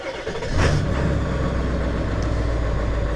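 A Ford 7.3 Power Stroke diesel, not plugged in at minus 15 degrees, cranks briefly and catches, then settles into a loud, steady, close-up rumbling idle.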